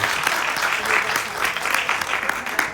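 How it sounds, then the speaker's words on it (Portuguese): An audience at a literary festival talk bursts into steady, dense applause, a continuous patter of many hands at moderate distance with a faint voice underneath. "Palmas para ela"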